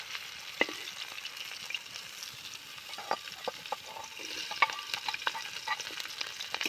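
Garlic and white greens fry in a pan with a constant, crackling sizzle, punctuated by sharp pops and stirring scrapes, close up and without talk.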